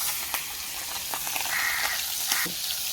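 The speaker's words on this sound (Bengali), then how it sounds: "সুন্দর করে লাল লাল করে মাছটা ভেজে নেব।" Turmeric-coated fish sizzling in hot oil, a steady bright hiss of frying with occasional crackles and pops, close and continuous, with an outdoor village setting behind it.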